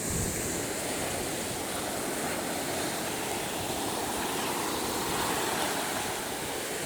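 Gulf surf rolls onto the beach at Fort Pickens, Gulf Islands National Seashore, near Pensacola, Florida, in a continuous close roar of breaking waves mixed with wind noise, with no voices.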